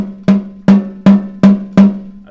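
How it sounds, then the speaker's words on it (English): Snare drum strokes played as a roll with the notes spaced too far apart, five separate sharp hits at an even, slow rhythm, each ringing briefly, with no talking. "You don't want a snare drum roll that sounds like this."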